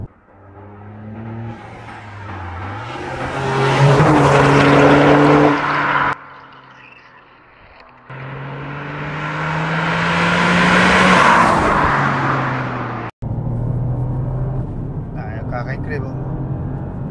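A Toyota GR Yaris is driven hard on a mountain road, its engine revving up through the gears in two long loud pulls with brief lifts and shifts between them, tires hissing, heard close from inside the car.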